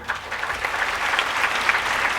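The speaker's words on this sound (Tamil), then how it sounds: "உண்மையிலே செல்வி பிரவீனாவுக்கு ஒரு கைத்தட்டல் கொடுக்கலாம்" An audience at a Tamil debate event applauds a speaker, a dense burst of many hands clapping, loud and close, lasting a couple of seconds with no talk over it.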